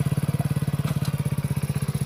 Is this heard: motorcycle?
yes